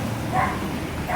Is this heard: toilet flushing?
no